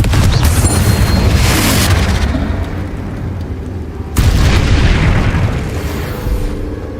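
Confringo explosion spells in Hogwarts Legacy go off as two heavy booming blasts, one at the start and another midway, each followed by a long rumbling decay, with no speech.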